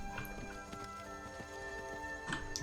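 Hooves of Arvak, a spectral horse in Skyrim, clop in an irregular trotting rhythm of sharp taps over a faint game ambience, moderately close and fairly quiet.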